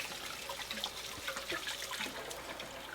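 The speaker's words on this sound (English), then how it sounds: "Let me wash my hands here" Hands being washed under a running tap in a home kitchen, giving a steady close splashing trickle of water that runs evenly throughout with no talking.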